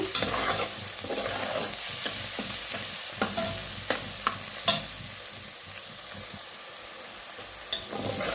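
Onions with cinnamon and four cardamom pods frying in a pan for a beef bhuna, a steady close sizzle broken by sharp scraping stirs and spatula knocks throughout, with no talking.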